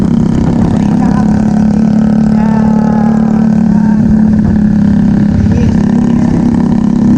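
A motorcycle engine drones steadily up close, a constant low rumble with a buzzing hum, loud and continuous with no pauses, in the Gandus area of Palembang in the late afternoon.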